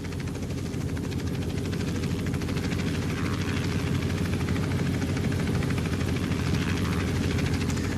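A helicopter hovers in a flight simulator game, with a steady, loud rotor thrum and engine drone that runs continuously without a break.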